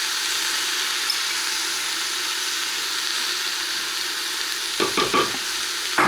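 Parsley and coriander sizzle in a pot over the heat for a Moroccan harira, a steady, close frying hiss throughout, with a few brief stirring knocks near the end.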